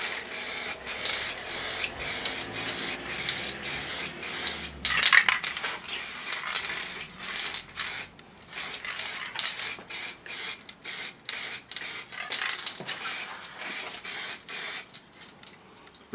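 Spray gun laying a wet coat of paint onto Triumph Scrambler motorcycle heat shields, a steady close hiss broken into repeated bursts of several seconds each with brief pauses between passes.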